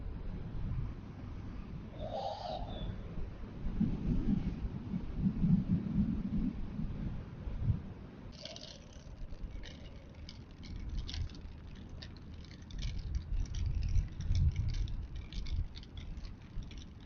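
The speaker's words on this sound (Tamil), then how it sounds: "கொஞ்சமா ஸ்லோவா ட்ரிசில் ஆகுது. மழை வந்துருச்சுப்பா." Light drizzle patters faintly during a motorbike ride from Andhra to Chennai, with soft scattered taps over a low rumble of wind and road noise and no voices.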